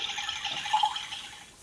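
A child's toy tap lets a brief, gentle gush of running water out, faint and close, with a small splashing peak midway before it tapers off.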